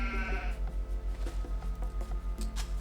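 A sheep bleats a few times in Age of Empires 2, the wavering calls close and clear over a low, steady pulsing hum.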